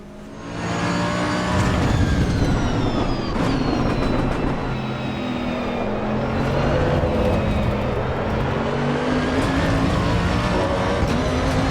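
Simulated race car engines in the Assetto Corsa EVO racing game, a steady loud drone with shifting pitch as revs rise and fall through gear changes, continuous for the whole stretch with no talking.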